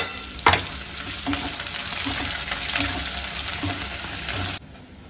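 Chopped onion frying in a pan for a home-cooked dish, a steady close sizzle with occasional stirring scrapes, ending abruptly as the heat drops away.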